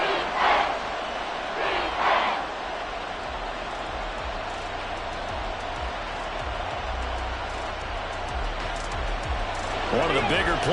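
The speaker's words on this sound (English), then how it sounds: "The crowd getting into it as we come up on a big 3rd down" A stadium crowd in a football video game roars steadily throughout, a dense, loud wash of cheering with louder swells near the start and end.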